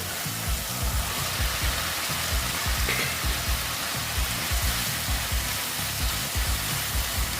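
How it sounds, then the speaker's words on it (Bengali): Pabda fish fry in hot oil with spices in a Bengali-style jhal, giving a continuous dense sizzle and crackle with soft stirring thumps underneath. "এখন মাছগুলো এটা সঙ্গে একটু মশলার সঙ্গে ভেজে নিচ্ছি"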